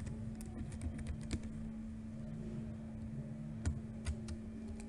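A username and password go in on a computer keyboard, fast irregular clicks near and clear with a few louder key strikes over a steady electrical hum, and no talking.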